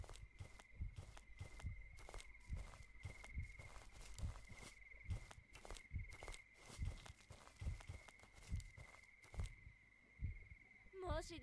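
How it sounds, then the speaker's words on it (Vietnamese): A heartbeat thumps in the horror video game Saiko no Sutoka, a steady run of soft, low, paired beats beneath a sustained high tone, fairly quiet, with a short warbling sound at the end. "Nghe thấy tiếng tim đập mà mày không biết"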